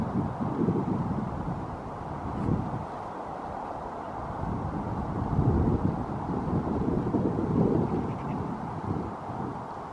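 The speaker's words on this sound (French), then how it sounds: "Vous devez entendre juste le bruit du vent parce qu'il y a quand même pas mal de vent" Wind blowing outdoors on a hillside in rural Ireland, a steady low rumble with gusts buffeting the microphone, continuous and fairly loud across the whole stretch, with no talking.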